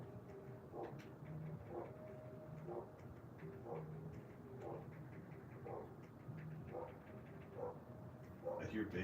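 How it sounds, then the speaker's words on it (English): A dog barks in repeated, evenly spaced bursts at a delivery arriving at a house, moderately close and steady over a constant background hum, with a slightly louder flurry at the end. "Oh, now the dog's gonna go nuts."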